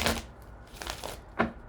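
Tarot cards being shuffled, with a few short papery riffles and slaps spaced irregularly, close up and fairly quiet.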